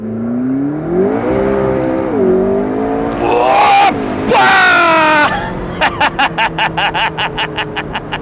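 A McLaren sports car engine revs and accelerates up close, its rising, wavering tone swelling into loud bursts before a quick run of sharp, evenly spaced pops near the end, with some voices mixed underneath.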